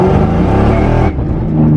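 A boosted Ford Mustang GT accelerates hard, its engine loud and close with a rough, strained tone that cuts off abruptly partway through.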